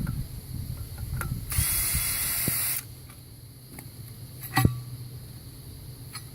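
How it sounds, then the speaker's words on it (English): A ratchet removes bolts from a lightweight footing while uninstalling an ILIDS unit: scattered metallic clicks and knocks, a burst of hiss partway through, and a sharp clank later on. "you have to take out all the bolts"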